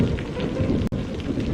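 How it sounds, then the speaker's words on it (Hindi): Heavy cartoon rain pours down in a dense, continuous hiss with a low rumble of thunder beneath it, broken once by a split-second gap, with no voices. "बारिश की आवाज से भी भाग रहे थे।"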